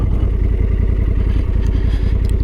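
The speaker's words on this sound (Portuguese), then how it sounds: "Fiz agora aqui uma travagem bruta." A Honda Africa Twin Adventure Sports motorcycle (2024) under hard braking, heard close as a loud, continuous low engine rumble and mechanical clatter over a short, dense stretch.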